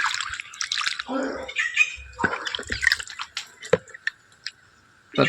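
Water is poured and trickles into soil around a newly planted aloe vera plant, with wet squelching and scattered drips that thin out toward the end, close up.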